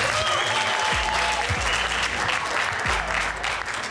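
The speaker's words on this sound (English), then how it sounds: "And a round of applause there." A TV studio audience at a competition show applauds, a loud, sustained burst of clapping with some crowd cheering and low musical tones underneath, voices faintly mixed in.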